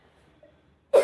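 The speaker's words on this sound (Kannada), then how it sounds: "ಅದಕ್ಕೆ ಫುಲ್ಲು ಕೆಮ್ಮು ಬರ್ತದೆ ನನಗೆ" A single short cough bursts out at the very end after near silence, brought on by pungent fumes from spices tempered in hot oil at home.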